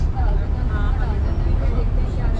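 A bus pulls out of the Maharana Pratap interstate bus terminal in Delhi, bound for Rishikesh, with a low engine rumble close by and a voice talking over it.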